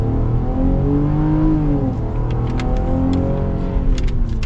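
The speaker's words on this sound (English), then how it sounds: "So we will get our full-blown acceleration here." 2021 Ram 1500 Warlock pickup truck with a V6 engine and 3.55 rear gears accelerating hard, the engine note climbing steadily, dropping briefly at a gear shift, then rising again, heard loud from inside the cab.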